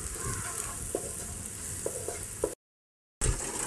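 Curry leaves fry in hot coconut oil for a Kerala fish moilee, giving a steady close sizzle with a few soft stirring taps and one short cut to silence.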